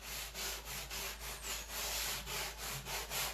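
Light sanding of painted wood, a soft abrasive rub in steady rhythmic back-and-forth strokes, close and fairly quiet with no talking.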